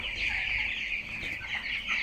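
Broiler chickens cluck and murmur continuously close by, a steady flock chatter with no talking.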